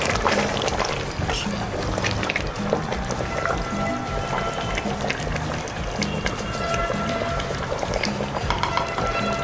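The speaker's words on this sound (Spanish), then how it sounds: "Agregamos un poco más de vinagre." Vinegar poured into a simmering Peruvian chicken adobo makes a continuous close trickle of liquid over a bubbling, busy cooking bed, with some voice in the background.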